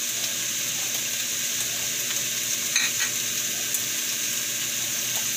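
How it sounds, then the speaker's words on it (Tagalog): Pork with chili peppers sautés in a pan, giving a loud, steady sizzle and crackle that runs continuously with a faint scrape of stirring and no talking. "Isain lang natin mabuti"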